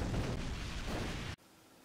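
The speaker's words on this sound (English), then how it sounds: "So Hem fires another laser at Ken, which causes another loud explosion." A loud explosion from laser fire in the Street Fighter Alpha game, a roaring, noisy blast that holds for over a second and then cuts off abruptly into near silence.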